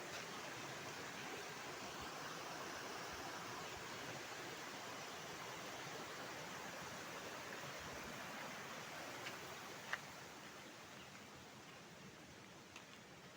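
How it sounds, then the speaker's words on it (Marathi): Water flowing down over a rock face near a village creek, a steady faint broadband rush with no breaks, heard alone without talking. "ते कातळ आणि त्यामधून ते पाणी कसं वरून वाहतंय"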